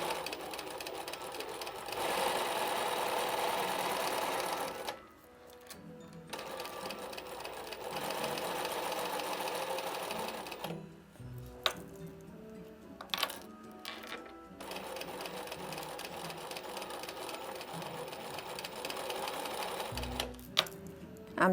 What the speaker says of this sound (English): Now I'm just going to sew across this.